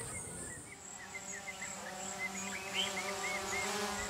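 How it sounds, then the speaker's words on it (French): A small photography drone hovers over the stone ruins of Loropéni, giving off a steady, even buzz with a constant pitch that holds at moderate level throughout, with no voices. "Aujourd'hui, un étrange bourdonnement vient perturber la tranquillité du site. Un petit drone photographie les murs de l'enceinte."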